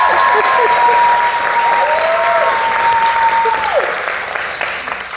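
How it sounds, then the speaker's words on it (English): An audience at a talk on African voices in game development applauding loudly and steadily, a dense wash of close clapping that tapers slightly near the end, with a faint voice over it. "I think you deserve like another round of applause."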